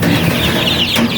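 Chickens on a small farm clucking continuously at close range, a dense flock chorus filling the short moment with no pauses.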